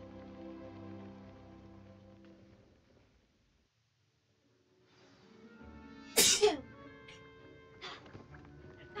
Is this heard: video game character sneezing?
yes